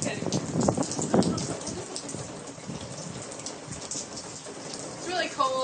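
Rain falls outdoors on a cold night with lightning nearby, a steady broadband patter close to the microphone. People talk over it and move around.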